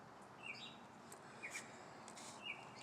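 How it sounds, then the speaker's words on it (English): Birds call outdoors on an early morning, with crows cawing nearby. Faint, scattered chirps and short calls rise over quiet background ambience. "you can hear the birds out here"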